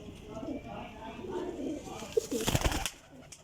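Desi pigeons coo and murmur quietly at close range, followed by a short burst of rustling or flapping toward the end.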